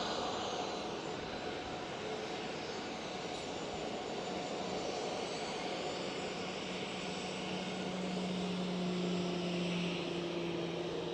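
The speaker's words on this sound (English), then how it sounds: "Right over there, the 777 cargo again." A Boeing 777 cargo jet at Amsterdam Schiphol roars steadily with its engines from a distance, a broad rumble that rises slowly toward the end.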